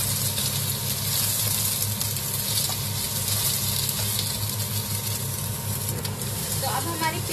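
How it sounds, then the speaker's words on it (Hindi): Onions fry in a pan of hot oil for a restaurant-style shahi paneer, giving a steady, close broadband sizzle that holds throughout, with faint background sounds and no clear speech. "प्याज को तब तक फ्राई करेंगे जब तक थोड़ी सी गोल्डन हो जाए."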